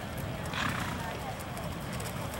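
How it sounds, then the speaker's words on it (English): Horse in a show arena during a Tennessee Walking Horse flat-shod gaited pleasure class: hoofbeats and a brief whinny in the background, with an announcer's voice and arena noise over them. "What's that other horse doing in here?"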